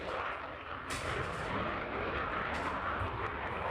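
Military aircraft depart at an air show with a loud, continuous broadband jet roar that swells and holds, with no talk.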